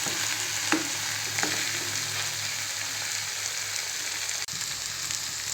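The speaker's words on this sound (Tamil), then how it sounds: "இது ஒரு 2 நிமிஷம் நல்லா ஃப்ரை ஆகட்டுங்க." Mushroom sukka fries in oil with roasted ground masala in a pan, giving a loud, continuous close sizzle with a few sharp stirring scrapes and taps.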